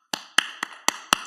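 Clapping during a church worship service: five crisp, evenly spaced claps, sharp and close, in a steady rhythm with silence between them.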